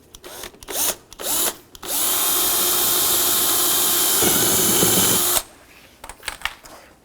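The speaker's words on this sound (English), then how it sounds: "Then we're going to drill a hole right where those dimples are." A power drill bores holes for rivets in a license plate bracket on a 2011-2015 Chevrolet Cruze, with a few short bursts followed by one long, steady, loud whine of about three and a half seconds.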